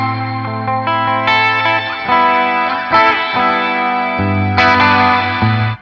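Bright electric guitar phrases on the bridge pickup through a Meris MercuryX reverb pedal's 8VA Bright preset, with a shimmering doubled octave tone and chorus-like sweetness, sustained notes ringing loud and close with no talking.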